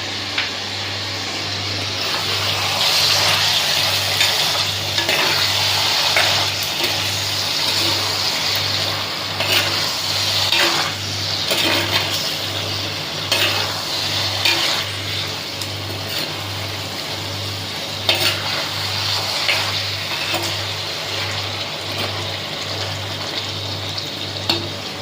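Non-vegetarian food sautéing in hot oil, a steady sizzling fry with occasional stirring clatter, continuous and close, under a low, regular pulsing hum.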